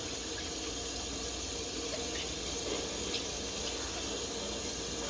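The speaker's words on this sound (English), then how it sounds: "I'm just gonna just rinse it off back and front" Tap water runs steadily over a sheet being rinsed back and front in a kitchen sink, a constant close splashing rush with no talk.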